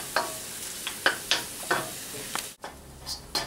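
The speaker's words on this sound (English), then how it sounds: "Add the Knorr cubes into the wok and continue to stir." Pancit canton noodles and onion stir-fried in a wok with Knorr cubes, a soft frying sizzle under repeated scraping strokes of a spatula, close and moderately loud, with no talk.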